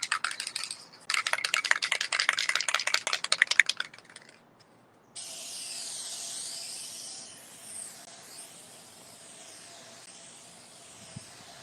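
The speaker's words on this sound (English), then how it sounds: "So I'm going to go ahead and get all of this sprayed with one coat." Spray paint hisses onto a cheap thrift store picture frame being turned into a mirror, first in rapid ticking bursts, then a brief pause, then a long steady hiss that rises and falls in gentle sweeps.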